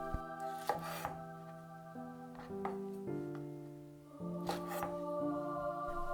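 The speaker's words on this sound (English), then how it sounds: "Cut them into chunks." A kitchen knife chops mushrooms into chunks on a board, giving a handful of sharp, irregular cuts over steady background music.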